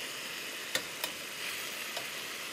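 Pork for bulgogi sizzles in a preheated frying pan, a steady close hiss punctuated by a few sharp pops and ticks, with no voices.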